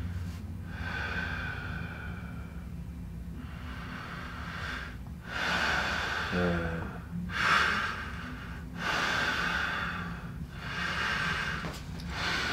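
A patient in chiropractic treatment for long-standing low back pain breathes heavily through the pain, with slow, close, loud breaths and snort-like exhales in a repeating rhythm, without talk.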